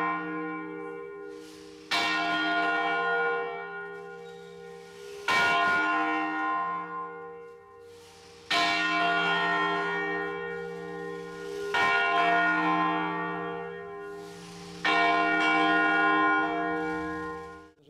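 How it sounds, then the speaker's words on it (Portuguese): A bronze church bell rings in five loud, ringing strikes about three seconds apart, each one sustaining a rich, shimmering hum that fades until the next strike. "Vai perceber o seguinte, que o sino, ele toca como se tivesse, ele repica"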